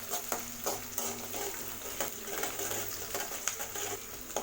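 Onions and green chilies sautéing in a pan for rava kichadi, with a steady soft sizzle and repeated light scraping strokes of a spoon stirring throughout.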